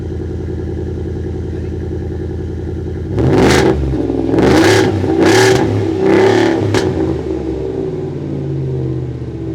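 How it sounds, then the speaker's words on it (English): Harley-Davidson edition Ford F-150 pickup with a specially tuned exhaust, idling with a steady low rumble before four sharp, loud revs in quick succession, then settling back to a deep idle. "This is that specially tuned exhaust system with that Harley sound."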